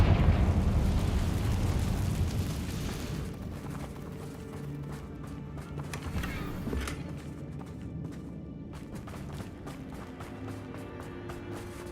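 A Confringo blast spell goes off in Hogwarts Legacy with a loud booming burst that rumbles and decays, followed by quieter game ambience and smaller crackling effects.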